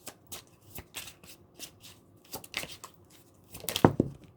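A tarot deck is handled and shuffled close up before the last card is drawn: soft, rhythmic riffling and cards slapping together in short bursts, ending in a louder flurry of card snaps.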